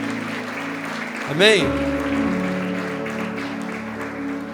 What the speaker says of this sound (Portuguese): Dá mais uma salva de palmas para Jesus aí então.